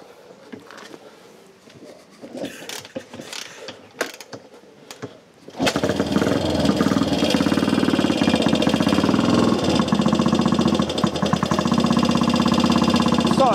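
Metallic clicks and clatter give way to a classic motorcycle engine, with choke on, catching on a single kick, then running at a steady, loud, slightly ticking idle.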